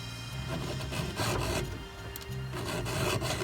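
A hand file is drawn along saw teeth in steady rasping swipes, a close, continuous gritty scrape at the start of timber harvesting work, with no talking.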